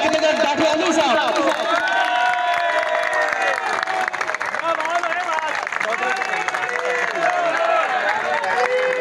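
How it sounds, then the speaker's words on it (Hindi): A crowd at a paramedical staff Eid gathering at a hospital welcomes a speaker with loud, continuous clapping and cheering, mixed with a hubbub of voices and some shouting throughout. "भरपूर तालियां दे नाल इनका इस्तकबाल किया जाए"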